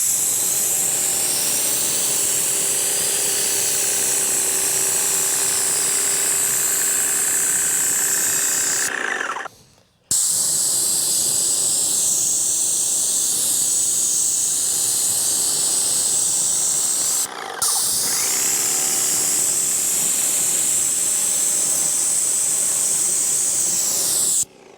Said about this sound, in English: it is so hard to beat an old airless paint sprayer